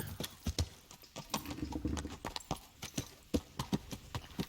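Horse hooves in Kingdom Come Deliverance clip-clop in a steady, close walking rhythm, each hoofbeat a crisp clack, with a brief low rustle partway through and no speech.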